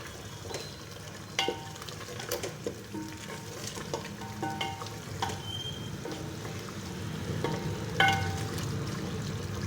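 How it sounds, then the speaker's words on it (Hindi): Masala frying in a pan for kachnar gosht, a continuous close sizzle broken by scattered spatters and the scrape of a stirring spoon. "ये देखिए हमारा मसाला बन चुका है और हम इसको अच्छी तरह से भून लेंगे।"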